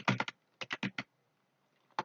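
Keys clack on a computer keyboard while a router command is entered, a quick burst of three strokes, then four more, a pause and one final tap, close and crisp against a quiet room.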